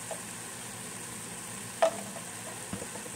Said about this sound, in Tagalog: Halo-haloin lang po natin ulit.